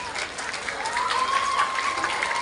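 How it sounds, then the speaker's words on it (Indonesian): An audience applauds for SMU Jepun. Steady clapping fills the clip at moderate loudness, with a faint tone and some murmuring voices mixed in. "Tepuk tangan dulu untuk SMU Jepun."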